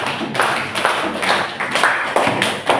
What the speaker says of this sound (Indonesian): Kasih tepuk tangan dulu untuk kelompok dua.